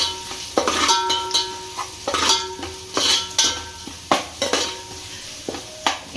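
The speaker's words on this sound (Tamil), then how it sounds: "எண்ணெயிலே வந்து இந்த மிளகாத்தூள் ஃப்ரை ஆகணும்" Chili powder sizzling in hot oil while a spoon scrapes and clinks against the pan in an irregular stirring rhythm, close up.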